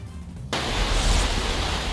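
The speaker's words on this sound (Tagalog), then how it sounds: "kita sa video ang malakas na ragasan ng tubig" Strong floodwater from an overflowing river rushing through a flooded town in Gigmoto, Catanduanes, during a typhoon, a loud, steady broadband roar that starts abruptly after a brief quieter moment and continues without pause.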